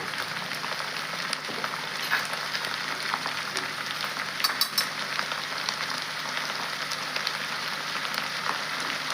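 Shredded cabbage and chana dal fry in hot oil in a pan, giving a steady, even sizzle that carries on for the whole stretch, with a few small crackles and no voices.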